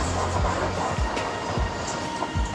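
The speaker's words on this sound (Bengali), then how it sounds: "এই যে বন্দে ভারত এক্সপ্রেস পাস করে চলে যাচ্ছে গোয়ার দিকে যাচ্ছে এটি" A Vande Bharat Express train heading toward Goa rushes past close by, a loud, steady rumble with rhythmic wheel clacks about every half second.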